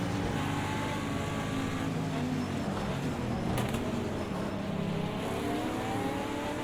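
GTD Pro race car engine at the Long Beach street circuit in an IMSA racing game, a steady loud drone that climbs in pitch through the gears, with no voices.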